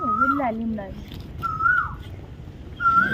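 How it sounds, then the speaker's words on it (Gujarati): An Asian koel calls in clear, rising whistled notes, three phrases spaced a second or so apart, fairly close, in a village, with low murmuring voices underneath. "ને કોયલ બોલે છે આ બાજુ"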